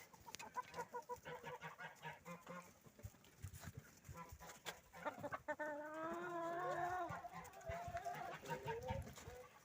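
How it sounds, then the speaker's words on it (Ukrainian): Chickens clucking nearby in a steady, busy chatter, with a louder drawn-out squawking call partway through. "кури всі тут"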